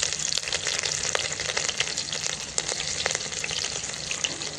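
Dry red chillies sautéing in hot oil for a Kathiawadi tempered rotla, a dense continuous crackling sizzle with scattered sharp pops, close and fairly loud throughout.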